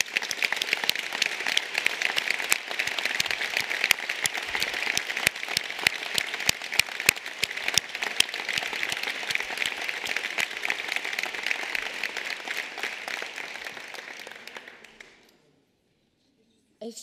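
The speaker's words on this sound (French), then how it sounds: "Je vous remercie de les applaudir" An audience applauds the organising group of the Brittany assembly gathering, a dense, steady clapping that holds for about fourteen seconds before fading out, with a brief sound at the very end.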